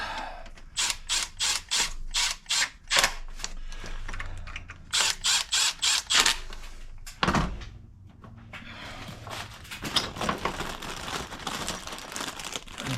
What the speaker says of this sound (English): I'm just gonna start sticking some bolts.